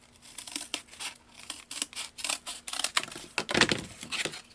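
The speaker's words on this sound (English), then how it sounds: "We're going to cut that off." Knife or blade slicing through a piece of cardboard for an ink pad storage box, a run of short scraping, crinkling strokes in an uneven rhythm, close and fairly loud, with no talking.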